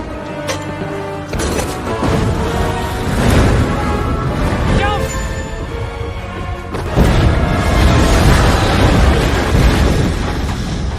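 A burning windmill tower explodes in a heavy, booming blast over dramatic background music, followed by a sustained rumbling roar that swells louder again near the end.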